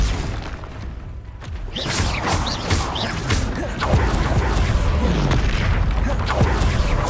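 Confringo blasting-spell explosions in the Hogwarts Legacy video game on PC, a rapid series of loud impacts and whooshing blasts that grows denser and louder as it goes, amid ongoing combat noise.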